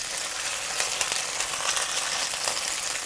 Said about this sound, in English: I've been frying them for about a minute or so